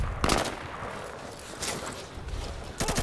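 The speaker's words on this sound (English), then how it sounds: "I don't know where he's shooting me at." Gunfire in the tactical shooter game Insurgency: a few loud bursts of shots break out at the start, in the middle and at the end over a steady background rumble, with no voices.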